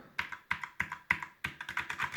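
Typing on a Redragon Mitra RGB mechanical keyboard with red switches: quick, crisp keystroke clicks in short irregular bursts, close and fairly quiet, with no talking.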